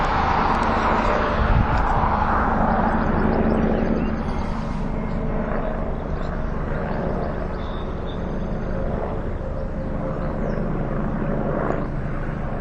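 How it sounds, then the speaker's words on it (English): A small black-and-yellow helicopter hovers overhead near The Grove, giving a loud, steady rotor and engine drone that holds without a break and fades slightly toward the end. "It's like the helicopter equivalent of a Fiat Cinquecento"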